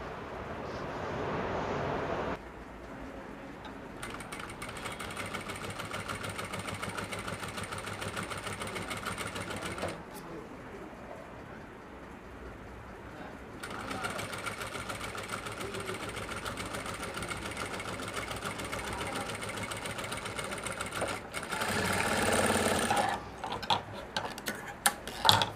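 A sewing machine stitches slowly along a handkerchief edge in bursts of steady whirring. Short pauses fall between the runs, and there is some louder handling clatter near the end.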